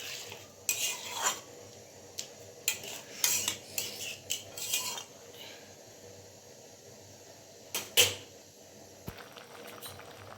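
Cashew paste is stirred into a vegetarian cauliflower roast in a pan, with repeated scraping and clinking of a spoon against metal in short bursts over a low simmer, close and fairly quiet.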